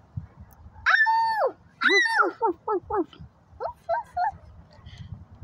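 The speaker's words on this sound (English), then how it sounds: "Look, it's doggy." A dog gives a few high yelping barks followed by short whimpering cries, close and fairly loud, in a quiet indoor setting with a brief voice nearby.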